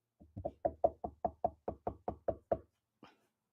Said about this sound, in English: They knock on the door.